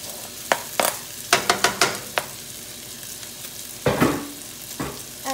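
Sausage, tomato and onion frying in a pan, with a series of sharp clattering stirs and scrapes over a faint, steady sizzle, close and clear with no talking.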